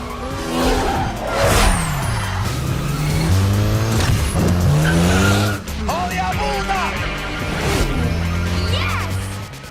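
Race cars from Fast and Furious rev and accelerate hard, with rising engine notes broken by gear shifts and tire squeals, loud and close throughout, with a voice faintly under the engines.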